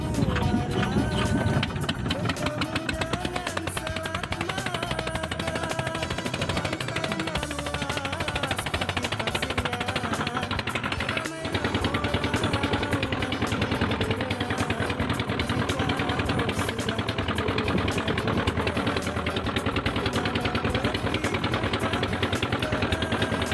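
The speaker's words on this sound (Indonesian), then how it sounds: "Pak Ismail lagi mengengkol mesin perahunya guys ya" A small fishing boat's engine, hand-cranked before heading home from crab netting at Tanjung Balai, runs with a loud, steady, rapid mechanical chugging and rattle that continues unbroken, with only a brief dip partway through.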